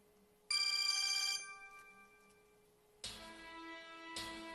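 A telephone rings in several loud electronic bursts separated by quiet gaps, close and clear, with no one talking.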